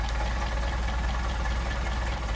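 A Mercedes 190SL engine with Solex carburetors idles steadily during an airflow check, a close, even, low rumbling chug with a busy mechanical clatter and no talk.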